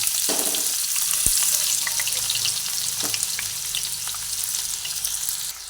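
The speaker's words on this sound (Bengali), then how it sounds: "তেলের মধ্যে আমি পেঁয়াজটা দিয়ে পেঁয়াজটা ভেজে নিচ্ছি" Onions sizzle and crackle in hot oil, a steady bright frying hiss with a few scraping stirs of a utensil against the pan.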